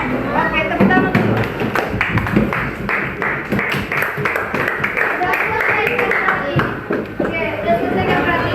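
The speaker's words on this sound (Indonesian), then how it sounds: "Oke, tepuk tangan dulu." An elementary madrasa class claps hands together in a classroom, a dense run of close, uneven claps and taps carried along under steady voices talking throughout.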